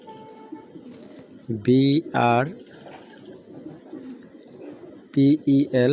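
Racing pigeons, including Giribaj pigeons, coo in several short, throaty bursts, a pair of calls early on and a quick run of three near the end, over a low background murmur.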